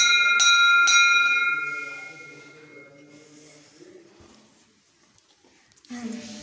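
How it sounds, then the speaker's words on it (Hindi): Temple bell at a village Shiva temple during Shivratri, struck twice near the start with bright ringing tones that fade slowly under a murmur of voices and background activity. "ये घंटा बजा"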